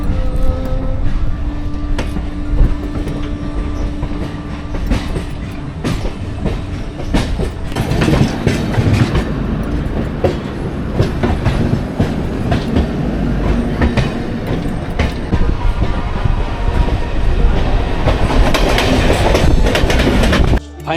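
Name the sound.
Barasat local train leaving Sealdah, running on rails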